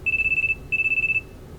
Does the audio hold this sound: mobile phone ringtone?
yes